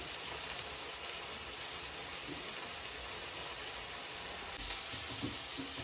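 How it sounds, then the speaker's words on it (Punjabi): Onions frying in a pan for an okra sabzi, a steady even sizzle, faint and continuous, with no voices. "ਸਾਡੇ ਪਿਆਜ਼ ਇਦਾਂ ਆਪਾਂ ਭੁੰਨ ਲੈਣੇ ਆ"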